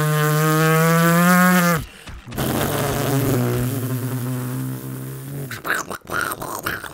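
A buzzy, electronic car engine drone from a retro video game holds steady, drops to a lower pitch after a brief break, then turns choppy and noisy.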